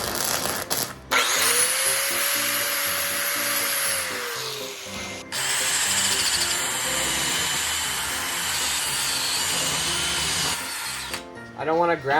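Angle grinder working over welded steel pieces cut from ten-foot lengths, a loud continuous whine running almost the whole time with one short break in the middle and rising, falling pitch as the disc bears down.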